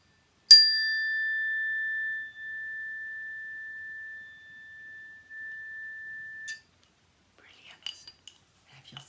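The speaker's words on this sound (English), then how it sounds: "I'm going to play the chime now." A single chime struck before a breathing exercise rings out clearly and sustains for several seconds as it slowly fades, followed by faint rustling and small clinks in an otherwise quiet room.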